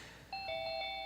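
A doorbell-style ding-dong chime marks a correct answer at a high school quiz bowl quarterfinal, ringing as two clear, sustained bell tones in sequence, close and alone with no talk.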